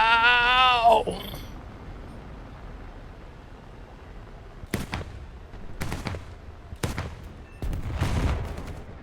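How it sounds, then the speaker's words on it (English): An aircraft gun fires in War Thunder in several short, sharp bursts of rapid shots, loud against a steady engine drone, after a brief squealing tone at the start. "The gun sounds so cool when it shoots"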